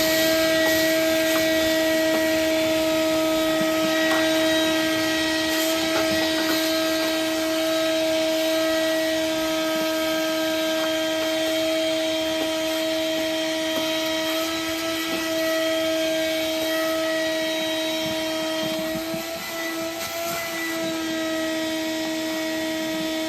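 A vacuum cleaner drones steadily and loudly while it sucks debris from the cabin air intake area of a 2010 Toyota Highlander, its tone holding almost unchanged from start to finish.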